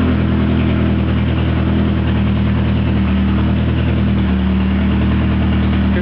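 A Lancia Delta engine runs at a steady, even idle, a constant low hum and mid-range drone close by with no talk over it.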